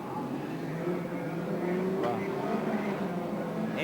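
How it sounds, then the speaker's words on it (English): Race car engines idle and rumble on a street-circuit starting grid at the Nissan Sport 500 in Wellington, a steady loud drone with a brief sharper rev midway, under a commentator's voice. "Engine's getting warm now,"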